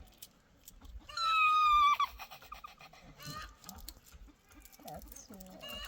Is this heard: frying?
no